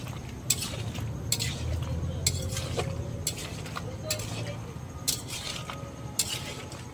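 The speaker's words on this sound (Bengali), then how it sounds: "আস্তে আস্তে আস্তে কষবো এটাকে।" Curry being stir-fried slowly in a pan, a low continuous sizzle broken by regular scraping strokes of a spoon against the pan, about one every second.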